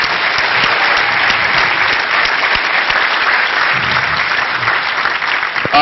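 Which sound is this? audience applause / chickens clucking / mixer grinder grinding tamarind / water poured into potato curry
audience applause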